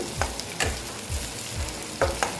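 Potato slices fry in a pan for a tangra fish curry, a soft steady sizzle broken by a few rhythmic spatula scrapes and knocks, close and fairly quiet.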